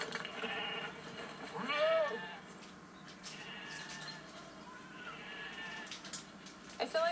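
Meat goats bleat on a farm in Montana. A few distinct bleats stand out near the start and end over quiet outdoor background.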